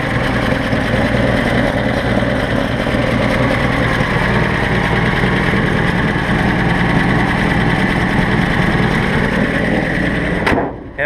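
A 1958 Chevrolet Apache pickup truck engine with solid lifters idles steadily and loudly up close, a dense continuous rumble with ticking valvetrain texture, until it cuts off abruptly near the end.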